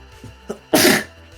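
A single loud, close sneeze bursts out after a couple of faint sharp inhales, then fades quickly into a quiet background.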